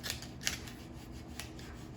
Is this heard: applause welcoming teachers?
no